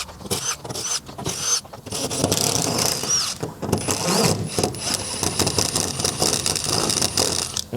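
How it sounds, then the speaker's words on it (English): Hex head self-drilling screws backed out of a trailer floor with a power driver, whirring bursts with ratcheting clicks and rattles, close and fairly loud, stopping and starting in short runs. "So pop all the screws out."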